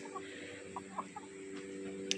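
Hens cluck in a few short, soft bursts against a quiet farmyard background with a constant low hum, fairly distant and faint.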